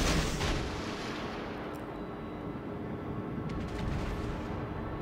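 Naval gunfire in World of Warships booms and rumbles in a dense, continuous roar, with a sharp blast at the start and sustained low thunder throughout.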